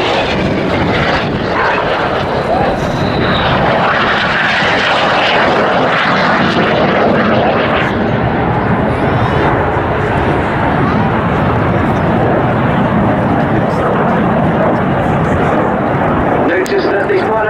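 Red Arrows jets, the synchro pair, roar through an air display at Cosford, a loud, continuous, broadband engine rush that swells and holds for the whole stretch.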